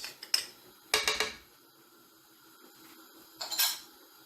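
A metal teaspoon clinks and taps against a container while measuring spice for Moroccan harira soup, with three brief bursts of clatter separated by quiet pauses, close and fairly soft.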